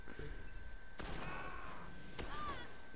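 Shotgun fire in a video game: two sharp, booming blasts about a second and a half apart, fairly faint against a low background murmur.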